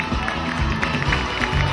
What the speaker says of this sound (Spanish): Los aplausos para nuestros amigos del jurado